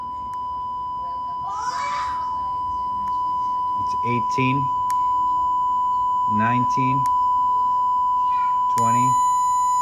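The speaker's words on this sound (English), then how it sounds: "I'm gonna show the 1000 hertz test tone or" A steady 1000 Hz test tone plays continuously through a homemade speaker while someone talks and counts over it, the tone harsh and distorting as the level rises.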